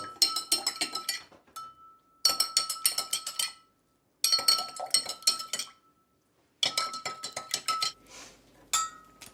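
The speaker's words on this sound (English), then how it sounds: "Now, give them a quick stir." Spoons stirring water in drinking glasses, bursts of rapid metallic clinking against glass in four main rounds separated by short silences, with a faint ringing tone lingering between.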